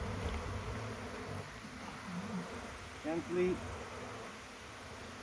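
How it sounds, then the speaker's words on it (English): Honey bees buzz around an open beehive while a beekeeper checks a honey super, a steady low hum with a few louder passes near the middle and a soft spoken word. "Lots of bees in here."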